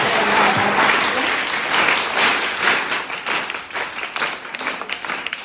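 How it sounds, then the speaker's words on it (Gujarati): An audience at a school thanksgiving event claps loudly and steadily, the applause tapering off slightly toward the end. "જોરદાર તાળીઓ સાથે આપણે એમનો આભાર માનીશું।"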